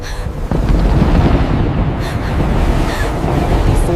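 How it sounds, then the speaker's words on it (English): Wind gusting over a lake, used as a story sound effect: a loud, steady rushing roar with a few brief swells, and no voices. "Then the wind shifted."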